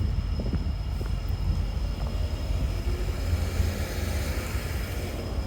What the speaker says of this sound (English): if I can see the train going underneath there.